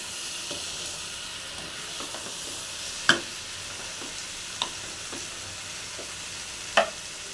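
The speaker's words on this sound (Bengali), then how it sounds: "তলা থেকে আর একবার নেড়ে দিলাম। মশলাটা আমার ভাজা হয়ে গেছে" Spice masala fries in a pan with a steady, fairly loud sizzle, broken by a few sharp scraping clicks as it is stirred from the bottom, with no one talking.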